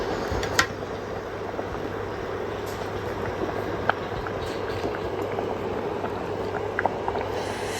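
Rice simmers in a pot on the stove with a soft, continuous bubbling. The sound stays low and even, with a few faint clicks and no voices.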